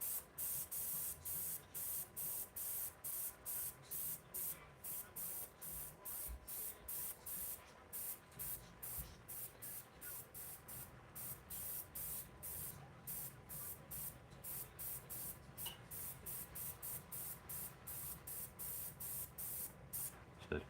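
An airbrush sprays paint in many short, rapid, hissing bursts separated by brief pauses. The bursts are close and steady in rhythm, and there is no talking.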